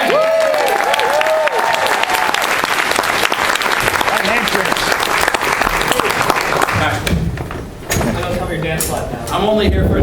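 An audience at a Marvel comics panel applauds and cheers loudly for several seconds, with voices calling out over the clapping before it fades and a person begins speaking.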